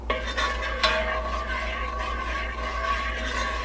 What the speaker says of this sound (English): We just need to keep stirring this until the sugar dissolves.